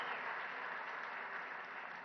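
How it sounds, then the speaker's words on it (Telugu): Audience at a government event where the Chief Minister announces accident insurance for employees claps steadily, a dense, even wash of applause from a large crowd lasting throughout, moderately distant. "పెద్ద ఎత్తున మీరు చప్పట్లతోని వారిని అభినందించండి"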